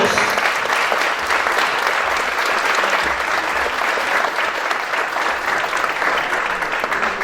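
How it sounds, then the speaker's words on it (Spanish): A conference audience applauds loudly to welcome a speaker, dense and sustained clapping from a large crowd at an even level from start to finish. "Saludamos con un fuerte aplauso al doctor Antonio Eugenio Rivera Cisneros."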